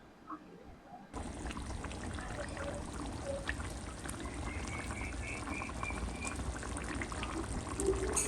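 Fish roe kofta curry gravy bubbles in a pan, a soft continuous simmer with small pops and gurgles that starts abruptly after a moment of quiet and carries on steadily.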